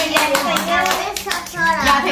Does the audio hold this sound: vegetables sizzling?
no